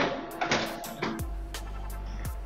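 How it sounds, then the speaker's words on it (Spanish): An HP NeverStop 1000-series laser printer runs a test page, with clicks and mechanical clatter giving way to a steady, loud low motor hum that stops and restarts near the end, heard close with no talk. "le damos en imprimir página de prueba"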